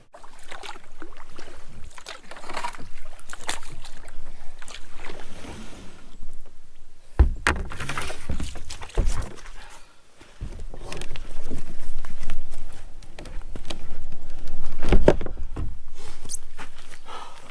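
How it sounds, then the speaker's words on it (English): Kayak paddle strokes splash and swish through the water in a steady rhythm while paddling upstream on a solo trip in Algonquin, close and fairly loud, with a few knocks against the hull. "It was actually kind of tough to paddle upstream."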